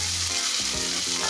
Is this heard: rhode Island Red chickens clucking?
no